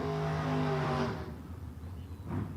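A drag strip dragster roars past in a loud engine burst that quickly fades into distance, followed by a faint second rise of engine noise.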